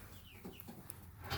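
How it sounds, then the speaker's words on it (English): Baby chicks in a chicken coop give a few faint, thin chirps close by over a low background murmur. The burst is short and no one speaks. "we got the baby chicks in the house"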